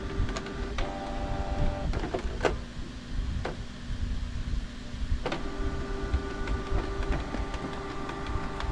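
An ink tank printer (Epson G1010 type) runs its head self-cleaning cycle, giving off a steady mechanical hum and whirr with intermittent clicks and brief motor shifts, close and continuous throughout.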